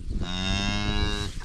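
A freshly calved cow moos in a barn, one long, loud, drawn-out bellow filling the moment, close by and with no talking over it.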